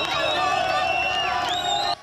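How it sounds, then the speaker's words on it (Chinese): Crowd of Gaza residents cheering in the streets, a dense continuous roar of many voices with rising whoops and shouts, loud and close throughout before cutting off abruptly at the end. "当下加萨人全都涌上街头欢呼"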